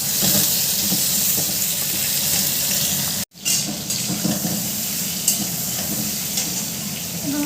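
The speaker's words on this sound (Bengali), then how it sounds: "বেগুনটা একটু ভেজে নিই" Eggplant pieces fry in a pan on the home stove with a loud, steady crackling sizzle that drops out briefly partway through, then carries on evenly.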